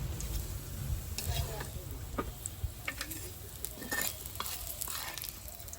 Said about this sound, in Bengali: সব একসঙ্গে ভেজে নিচ্ছি